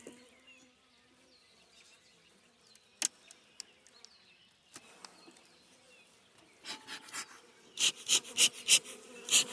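Honeybees buzz around an open hive during a spring inspection, faint at first, then louder as insects pass near in repeated swells toward the end, with a few sharp knocks from the hive parts.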